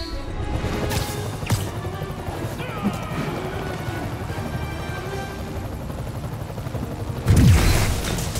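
Helicopter rotor drone in the Marvel's Spider-Man video game runs throughout, punctuated by several sharp crashing impacts and a loud burst near the end, with game dialogue and sound effects layered in.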